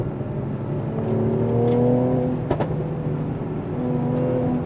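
Mercedes AMG with a stock 3-litre engine revving, its exhaust note rising and falling with a couple of sharp pops and crackles, heard nearby without talk.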